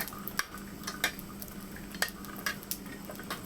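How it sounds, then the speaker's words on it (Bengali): Garlic and green chillies stirred and fried over medium heat, a faint background sizzle punctuated by irregular clinks and scrapes of a utensil against the pan, close and fairly quiet, with no talking. "কাঁচা লঙ্কাগুলো দিয়ে দিচ্ছি দিয়ে এটাকেও ফ্রাই করে নেবো কিছুদিন এভাবে নেড়ে চেড়ে এটা ফ্রাই করে নেব"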